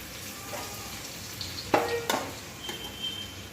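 A dish fries in a pan and gets a final stir after chili powder and coriander leaves go in. A continuous sizzle is broken by a few sharp scraping clinks of the utensil, with no talking.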